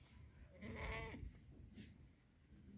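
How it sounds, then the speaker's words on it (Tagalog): A goat bleats once, a wavering nasal cry at moderate distance, over a low outdoor background rumble. "sobrang laki ng mga kambing"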